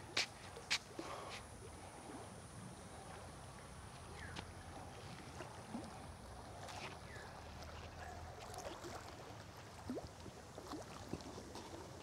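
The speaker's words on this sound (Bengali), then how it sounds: "পানির শব্দটা আমাকে খুব ভালো লাগছে" Water flows beside a boat on a river near a mango orchard, a faint, even wash with soft knocks and a few brief clicks over it and no voices.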